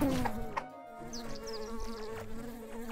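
Buzzing bees in the Secrets of Grindea game, a run of quick repeated buzzy chirps over a steady low game tone, close and clear.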